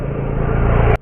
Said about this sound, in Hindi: मैं गाड़ी मोड़ता हूँ ना